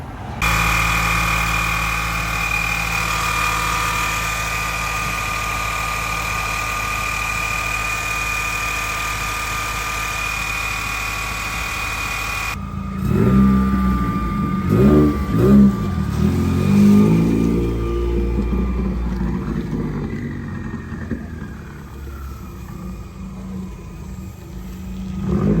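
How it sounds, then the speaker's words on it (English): A Subaru car engine idles steadily with a squeak-suspect belt setup, a constant hum that shifts midway into rougher, louder running with a few revving surges. "Then I'm gonna turn the car on, let it run for a little bit to see if it's there or not"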